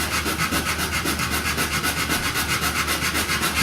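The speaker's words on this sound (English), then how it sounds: "just using a little sanding block to keep everything" A small sanding block with 400 grit paper rubs steadily against a wooden bowl near its center, a close, continuous scratchy friction with a quick repeating back-and-forth rhythm and no talking.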